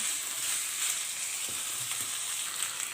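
Chicken pieces fry in a masala of spices and ground black pepper for a white korma, a steady, soft sizzle with occasional stirring scrapes and no talking.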